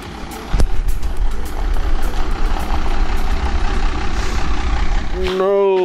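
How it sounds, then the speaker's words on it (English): A heavy truck engine rumbles steadily nearby, loud and continuous, ending with a brief rising mechanical whine. "I hear it pulling down the road right now."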